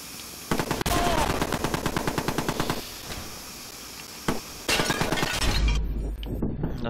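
Gunfire in the Watch Dogs video game: rapid automatic bursts rattle off in long runs, broken by a single sharp shot and a short pause before another burst, loud and close.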